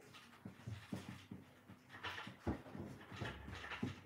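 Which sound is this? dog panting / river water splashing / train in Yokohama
dog panting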